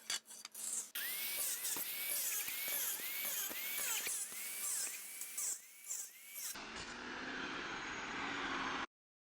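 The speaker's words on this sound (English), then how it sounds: "let's cut that off. Best tool for the job is an angle grinder." An angle grinder cuts through a steel cattle panel for a garden arbor trellis, giving a loud, harsh whine that rises and falls in repeated strokes as the disc bites the wire, then settles into a steady hiss before stopping.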